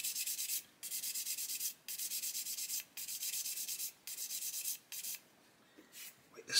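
A sanding stick rubs back and forth over a metal part on a 1/35 Meng Chieftain Mk10 scale model, giving steady raspy strokes in regular bursts with short pauses between, close and fairly loud, no talk.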